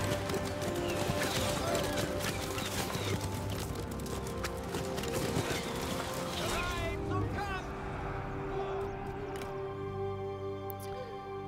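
Galloping hooves of horses in a battle in the video game Total War: Three Kingdoms, a dense rapid clatter under busy game sounds that thins out toward the end.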